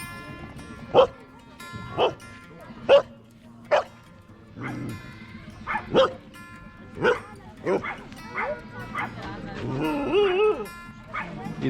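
Dogs at a zoo bark repeatedly in sharp, fairly close yips, with a short whimpering whine near the end and people talking quietly in the background.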